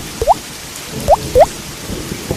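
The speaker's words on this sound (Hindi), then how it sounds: "बारिश आने पर उनके घर से पानी टपकता" Three separate water drips from a leaky roof plop one after another at uneven intervals, close and clear against a quiet background.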